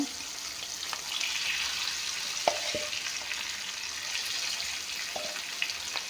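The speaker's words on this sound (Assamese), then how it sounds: "ভাজি ল'ম একেলগে।" Steady broadband hiss of oil frying food, with a few faint clicks and pops scattered through it; no voices.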